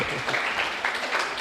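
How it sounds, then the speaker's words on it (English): Audience applause at a Hausa popular culture arts event, a brief steady wash of clapping heard at moderate level with no gaps. "Round of applause for them, please."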